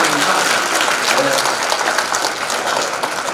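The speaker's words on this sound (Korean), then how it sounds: "박수 한번 쳐주세요." An audience at a lecture event in Nowon-gu claps together in a steady, full round of applause that stays loud and even from start to finish, with faint voices mixed underneath.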